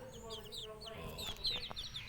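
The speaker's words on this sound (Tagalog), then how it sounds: "'Yun ang mga alagang manok natin. Sabi nila black shamoy" Young Black Shamo chickens cluck and chirp in short, high bursts, fairly close, over a soft steady background hum.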